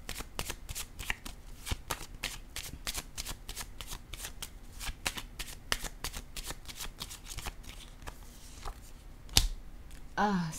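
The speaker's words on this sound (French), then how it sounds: "Je vais déposer une autre carte ici." Tarot cards are riffled and laid down during a Scorpio reading, a close, steady run of quick crisp snaps and flicks that ends with one sharper slap and a brief rustle, with no talking.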